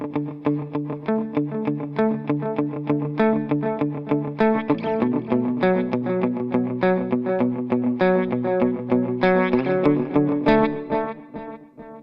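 Electric guitar playing a rhythmic repeated-note pattern through a Jet Revelation drive paired with an Eternity delay, dotted-eighth style repeats stacking into a dense, continuous wash with distortion and chorus-like shimmer, loud and steady, no talking.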